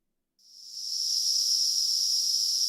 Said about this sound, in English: that's just the sound of a cicada